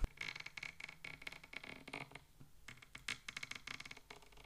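A guitar imitating a creaking door gives a quiet run of irregular scratchy, grinding scrapes with rough bursts and short gaps, close and alone.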